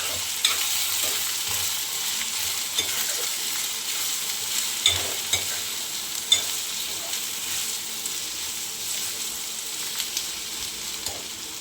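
Steady sizzle of ivy gourd frying with spices and kitchen king masala in a pan, with soft scraping and stirring clicks scattered throughout at a close, moderate level.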